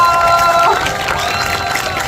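A festival crowd at a chicken galbi festival in Chuncheon, applauding and cheering before a trot singer's next song, a dense, loud wash of clapping and shouts that holds steady throughout.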